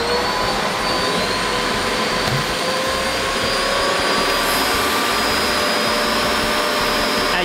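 An industrial SkyVac vacuum roars with a steady, loud, broadband suction whine and a faint high tone, holding a 5-kilo load by suction for the whole stretch without pause.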